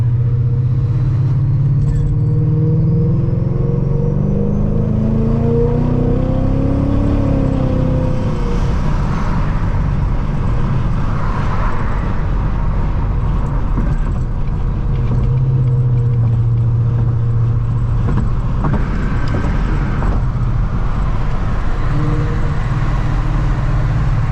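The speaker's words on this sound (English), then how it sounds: "So that blower whine, dude, oh my God, it never gets old." A supercharged 700whp Ford Mustang driving on a Chicago morning, its blower whine rising and falling over a steady, loud engine drone and road noise that continues throughout.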